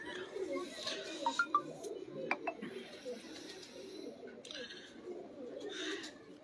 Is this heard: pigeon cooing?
yes